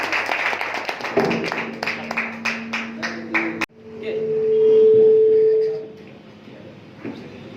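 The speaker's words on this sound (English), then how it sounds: "So please clap for him." A small audience at a school talk gives a short burst of steady, rhythmic hand clapping for a speaker, followed by a sustained electronic tone, with some voices in the background.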